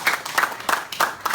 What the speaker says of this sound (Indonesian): beri tepukan kepada beliau